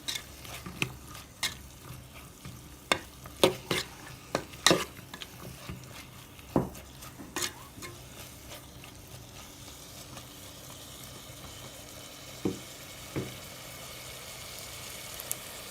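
Chicken macaroni with cubed carrots cooks in a pan under a soft, steady sizzle, broken by sharp scrapes and knocks of a spoon stirring against the metal, frequent early and sparser later.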